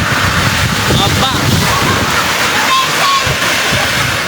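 A heavy rain squall with strong wind roars over open water near Taytay, Rizal, a dense continuous wash with wind buffeting the microphone, loud and close, while voices talk faintly underneath.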